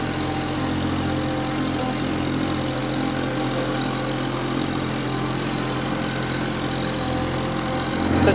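A John Deere 5075e tractor with loader and ballast driving onto a turf rail trailer, its diesel engine running at a steady low idle-like drone throughout, moderately close with no talking.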